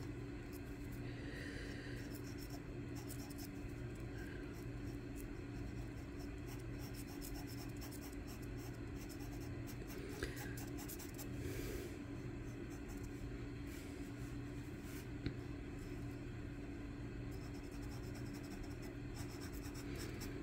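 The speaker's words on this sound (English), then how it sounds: "I like to use lightly the white charcoal pencil, and I just want to bring this out a little bit." A white charcoal pencil moves lightly over black paper, making faint, scattered scratchy strokes over a quiet, steady background hum.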